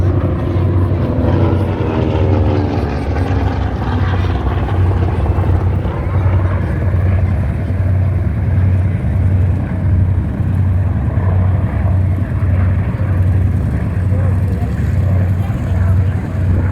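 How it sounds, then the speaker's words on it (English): A TBM Avenger propeller aircraft flying at the Wings Over Illawarra 2021 airshow, its loud steady engine drone and throbbing propeller beat continuous throughout, with a pitch sweep early on as it passes. "Now Paul bringing the Avenger back in."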